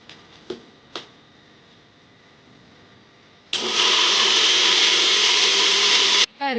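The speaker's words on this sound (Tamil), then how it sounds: "இப்போ இதை மிக்ஸி ஜாரில் அரைச்சிடலாம்." A few light knocks come first, then a mixie jar grinding mango, sugar and milk for kulfi roars into a loud, steady whir for about three seconds, cuts off abruptly and briefly restarts.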